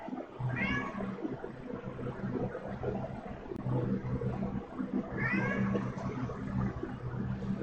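Cat meowing in a kitchen, two drawn-out, rising and falling meows spaced several seconds apart, close and clear over a steady low background rumble.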